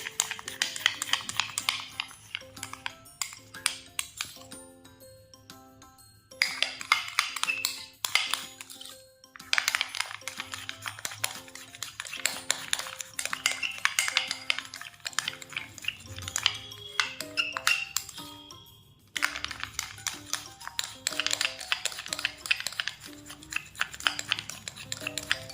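Homemade no-glue slime with added salt being stirred in a bowl, utensil clinking and scraping against the sides in quick repeated bursts with short pauses between, close and clear without talk.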